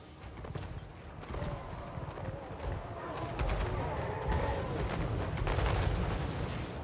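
Cathay artillery in the video game Total War: Warhammer 3, heard as a dense rumbling bombardment of repeated booming impacts amid battle noise, building slightly louder over seven seconds.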